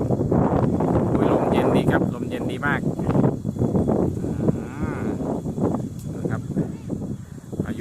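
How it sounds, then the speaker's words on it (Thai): Strong wind buffets the microphone at a high mountain viewpoint near Bo Kluea in Nan province, Thailand, a steady low roar and gusty rumble heard under someone talking excitedly throughout. "โอ้ยลมแรงครับลมแรง"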